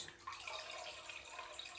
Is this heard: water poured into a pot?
yes